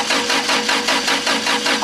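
A wood-gas-fuelled Toyota Hilux engine cranks in a long, steady burst, its starter churning with even rhythmic pulses close by and loud, without catching.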